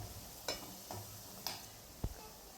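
Stirring Morola fish paturi in a covered pan after the lid is lifted, giving a few soft scraping strokes and faint sizzling, with one sharper clink near the end, quiet and close with no talking.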